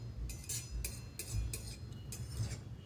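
A spoon scrapes and clinks rhythmically against a pot while sweet dalia porridge is stirred, about six regular bright strokes over a low background rumble, no voices.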